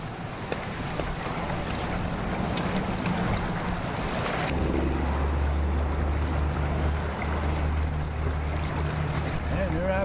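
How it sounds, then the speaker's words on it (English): Strong wind buffets the microphone by the water near a full-camo bass boat, a loud continuous roar with gusts and a low rumble, alone without talk. "It's windy, right?"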